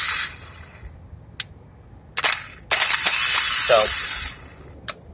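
A starter motor from a 2002 GMC, removed from the vehicle and tested on its own, gives sharp isolated clicks and a loud burst of whirring noise lasting over a second, heard up close.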